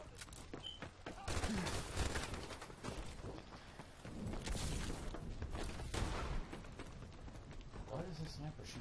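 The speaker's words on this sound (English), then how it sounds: "Why does a sniper shoot 2 bullets?" Rapid shots from a sniper rifle in the game Call of Duty: Advanced Warfare crackle steadily under ongoing busy game noise, loud and close, while players talk over the action.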